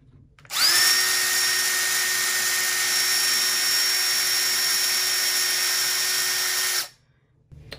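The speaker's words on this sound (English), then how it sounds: "Once you've got your hole drilled" A power drill bores a pilot hole in an Arcade1Up arcade cabinet, a steady high whine held for about six seconds before cutting off, close and loud with no talking.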